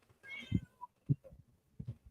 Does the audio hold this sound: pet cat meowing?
yes